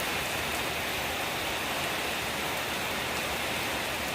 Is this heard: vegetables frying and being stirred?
no